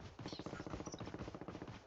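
Rapid bursts of automatic gunfire in Call of Duty Mobile battle royale, a fast regular rattle of shots, quiet and somewhat distant, continuing throughout.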